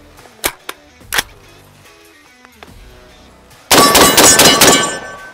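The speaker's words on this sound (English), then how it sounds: "5 rounds rapid fire with the AR10." A DD5V4 AR-10 .308 rifle fires five rounds in rapid succession. The shots come as a dense, loud burst of sharp cracks with ringing metallic echo, after a few earlier clanks and clicks.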